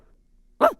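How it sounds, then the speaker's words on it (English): A dog gives one short, sharp bark, close and fairly loud, after near silence. "I see, I replied, while Rockstar barked"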